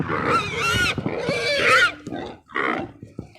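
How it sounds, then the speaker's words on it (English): Several pigs kept inside electric net fencing on a farm let out loud, close squeals and grunts in a few bursts, with short pauses between the calls. "So yeah, there's the piggies."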